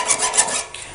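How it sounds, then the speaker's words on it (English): A file rasps in quick, close strokes across the rakers, or depth gauges, of a chainsaw chain, with two louder scraping pulses and then a softer drag. "we finish up every chain by custom grinding every raker, every depth gauge"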